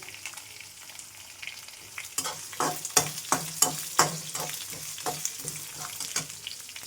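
Ginger, garlic, coconut and dried red chillies frying in a pan for a tomato rice dish, with a steady sizzle and a run of sharp scraping stirs from a spoon, close and fairly quiet, no talking.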